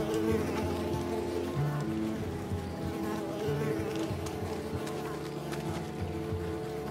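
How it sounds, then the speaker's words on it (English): Steady, insistent buzzing of insects, heard as mosquitoes swarming in the Unravel video game, drones continuously and close at a moderate level under a low game background hum. "These mosquitoes are bothering me. They're bothering me right now."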